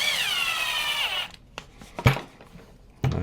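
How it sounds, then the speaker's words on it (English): A power drill whirs loudly for just over a second as it drives a screw into RC car suspension parts, then stops, followed by a few small clicks and knocks of parts being handled. "And we can go ahead and drill that in."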